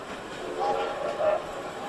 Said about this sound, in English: Soon he sees some red and green lights and the noise of a train.